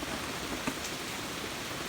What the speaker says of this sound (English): It's raining, but look at the sun shining on the shed.